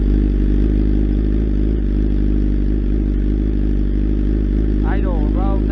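A BMW S1000RR with Akrapovic headers and a GP Shorty muffler idles loudly up close, a dense, steady low rumble throughout, while a voice briefly speaks near the end.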